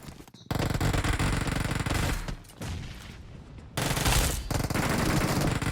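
Rapid automatic gunfire in the Free Fire battle royale game, loud dense bursts of shots with a brief pause partway through and a renewed heavy burst near the end, with no talk over it.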